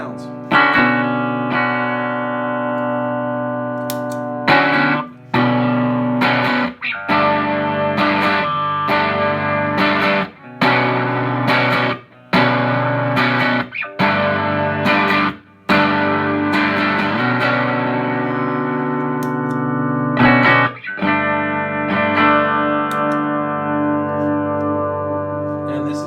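Electric guitar, neck or bridge pickup, runs through a Pelican Noise Works 50/50 overdrive into a Benson Monarch amp, giving driven, sustained chords and riffs with short breaks between phrases over about 26 seconds.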